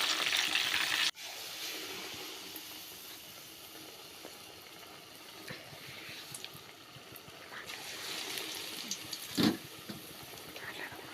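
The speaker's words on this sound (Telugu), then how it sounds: "నేను ఒక కారం తగ్గుతాయని వేయించుకుంటున్నాను." Green chillies fry in hot oil with a steady, close sizzle that runs throughout, cut by a brief dropout near the start and a short louder stir or clatter toward the end.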